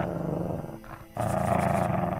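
A dog snarls and growls in the Pendragon Arthurian strategy game, a low rumbling snarl that dips briefly and then swells louder and rougher, close and with no voices.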